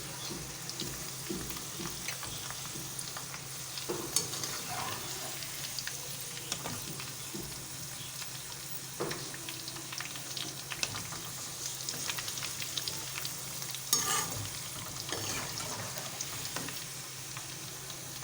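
Potato pieces fry in oil with a continuous, moderately loud sizzle, punctuated by occasional scrapes and knocks of stirring.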